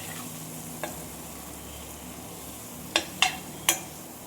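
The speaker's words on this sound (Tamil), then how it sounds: "இது எல்லாம் நல்லா பச்சை வாசம் போகிற வரைக்கும் நல்லா வரும் வதக்கிக்கலாம்" Ingredients for a quail egg and mushroom gravy sizzle steadily in a pan, and near the end a spoon clinks sharply against the pan three times, with no talking.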